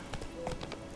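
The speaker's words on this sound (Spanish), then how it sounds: "Hay un caballo, ¿no?" Horse hooves clip-clop in The Witcher 3 video game, a short run of quick, soft, fairly faint taps.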